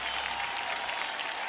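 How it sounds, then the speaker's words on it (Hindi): Studio audience of a televised quiz game show breaking into loud, sustained, dense clapping that holds at an even level throughout, with no talk over it. "जनता से अनुरोध है कि जोरदार तालियां बजती रहें"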